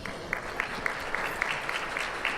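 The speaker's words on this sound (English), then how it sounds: "Give yourselves a round of applause." Audience of Jacksonville business professionals applauding at an industry awards event, a steady wash of clapping with a few sharper claps standing out, fairly close and continuous.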